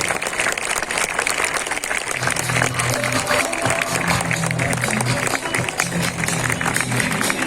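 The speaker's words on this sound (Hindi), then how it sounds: "जब तक सीट पर नहीं बैठते तब तक तालियां बजती रहनी चाहिए।" Audience applause at an award ceremony in Lucknow fills the hall as a steady, dense wash of clapping, with music or low tones sounding underneath and no speech heard.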